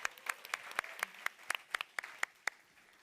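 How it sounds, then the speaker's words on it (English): An audience at a company event gives a sparse round of applause, with a few distinct, separate claps ringing out irregularly rather than a full ovation. "Round of applause to you guys."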